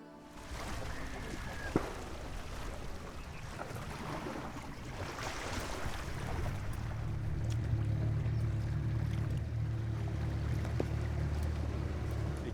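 Small leaky boat moving across water in Panama, a steady churning wash and wind noise with a low motor hum building in the second half, one brief knock early on and faint voices beneath.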